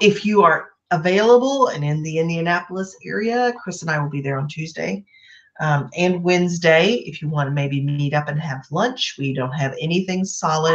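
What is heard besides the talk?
None of the usual background noises is heard.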